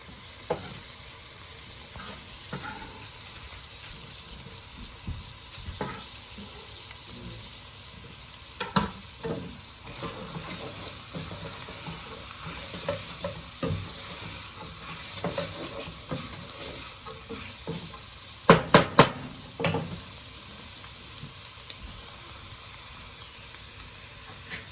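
Celery sizzling in a soup pot with chicken and bacon: a low, steady hiss with scattered clinks and scrapes of a stirring utensil, a louder cluster of knocks near the end, no talking.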